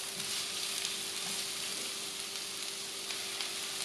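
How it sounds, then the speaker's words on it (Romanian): Onion and bell pepper sautéing in hot oil, a steady broad sizzle holding evenly throughout with a faint steady hum beneath, no voices. "Când s-a încins, punem legumele la călit, ceapa, apoi ardeiul."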